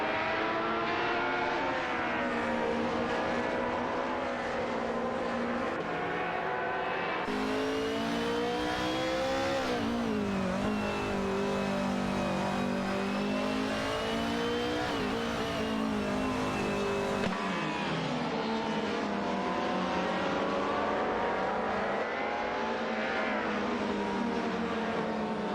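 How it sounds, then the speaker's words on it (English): Race cars in a racing video game sweep through a turn and onto a straightaway, their engines droning loudly and steadily with rising and falling whine throughout, no voices over them. "The two cars are neck and neck as they exit the turn, with Lacroixon 1980 gaining slightly on the straightaway."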